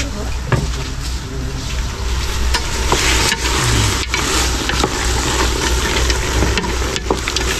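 A cooking pot sizzles loudly as fish sauce goes in, with close crackling frying and a few sharp clinks of a utensil against the pot throughout.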